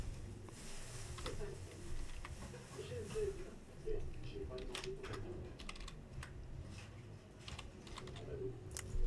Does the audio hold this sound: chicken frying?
no